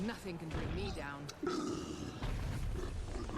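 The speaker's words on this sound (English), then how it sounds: "That's the sound of a cranky dragon who ain't getting fed today." Dragon in Guild Wars 2 letting out a deep, rumbling roar with growling grunts, heard under someone speaking over it.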